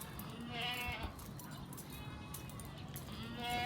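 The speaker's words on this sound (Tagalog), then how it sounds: "Po ang mga kambing dito nag stay ngayon." Goats on a small farm bleating, several overlapping wavering calls near and mid-distance over steady outdoor background noise.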